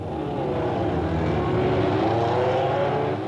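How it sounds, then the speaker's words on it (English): Legends race car engine running at steady high revs, a continuous loud harmonic drone with no voices. "crank that engine up, hear the power"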